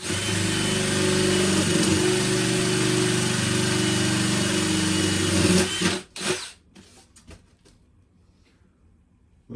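A drill bores a hole through a wooden panel during a narrowboat fit-out, whining steadily and loudly for about six seconds before cutting out abruptly, followed by a few faint clatters and quiet handling sounds.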